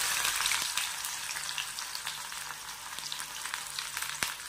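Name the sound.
cinnamon, bay leaf and chopped onion frying in hot oil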